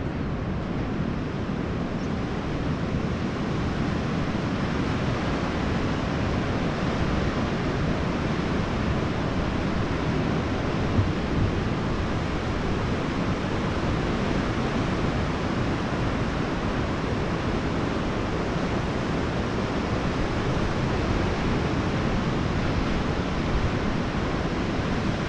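Ocean waves break in a steady, continuous roar of surf that stays loud and even throughout, with no voices.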